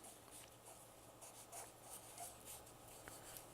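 Pencil writing on paper during a first-grade classroom writing demonstration, a faint, steady scratching that continues for a few seconds with no talking.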